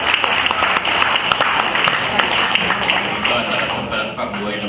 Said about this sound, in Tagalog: Pwede po ba pumalakpak tayo?